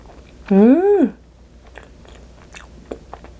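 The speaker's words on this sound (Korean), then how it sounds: "마지막 노티드 말차 라떼 도넛. 이렇게 겉에는 슈가 파우더." A Knotted matcha latte donut dusted with powdered sugar is eaten up close. A brief voiced hum of approval comes first, followed by faint, soft chewing clicks and smacks.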